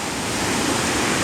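Athirapally waterfall, India's big cascade, roars as a steady broadband rush of falling water with spray, loud and continuous with no voices over it.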